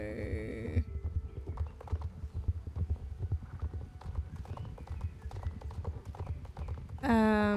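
Horse hooves clip-clop steadily in the Star Stable video game, a close, even rhythmic trot with a neigh at the start and end.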